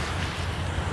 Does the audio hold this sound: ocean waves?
yes